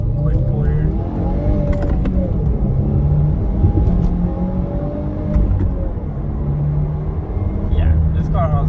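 A stock 2015 or later Subaru WRX accelerating hard, its engine rumbling low and rising in pitch through the pull, loud and close from inside the car, with brief gaps for gear changes.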